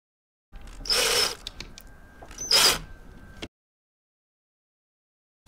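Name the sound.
drill screwing surf adapter screws into nut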